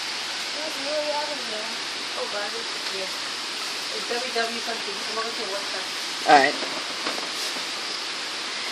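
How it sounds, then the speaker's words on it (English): Heavy rain pouring outdoors during a thunderstorm near Van Cortlandt Park in the Bronx, a dense steady hiss of downpour with someone talking over it now and then. "It's starting to rain hard."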